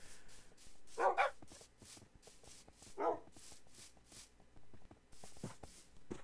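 Minecraft dogs give two sharp barks about two seconds apart, fairly close, over quiet game ambience with scattered clicks and footsteps.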